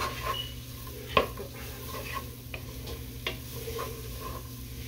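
Vegetables saute in melted butter in a pan, giving a soft, steady sizzle with occasional stirring scrapes and one sharp utensil clink against the pan, close and quiet.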